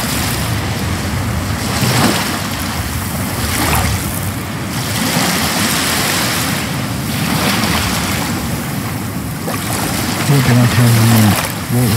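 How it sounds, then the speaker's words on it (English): Waves and surf roll and wash in steady surges, mixed with wind buffeting the microphone, while people talk over them. "The surf's just right. Wonderful waves."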